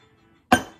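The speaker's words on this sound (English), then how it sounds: "get a few ice cubes." A single bright clink of ice cubes dropping into a glass, close and sudden after near silence, while a tequila drink is being made in a home kitchen.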